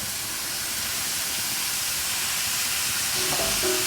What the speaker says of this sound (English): And now I'll just add in our mushroom.